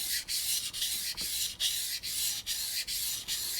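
A Japanese knife blade strokes back and forth across a sharpening stone in a quick, even rhythm of about nine gritty rasps, close and quiet, with no voices.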